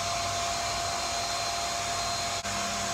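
A pump plugged in to drain a 19,000-gallon swimming pool runs with a steady, loud, unbroken whir that holds for the whole stretch, with one brief dip near the end and no voices.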